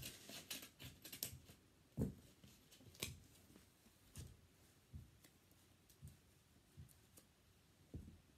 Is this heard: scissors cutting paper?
yes